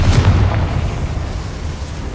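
A Confringo blasting spell goes off in Hogwarts Legacy, one loud booming explosion with a heavy low thump up front that decays into a rumbling, crackling tail.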